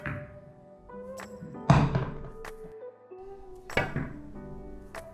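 A pool cue strikes the cue ball, which knocks into an object ball on a pool table with left spin applied, giving a couple of soft thuds and clicks over a faint background hum.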